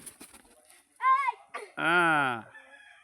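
A rooster crows twice nearby, a short call followed by a longer, louder drawn-out crow, with faint rustling and scattered noise around it.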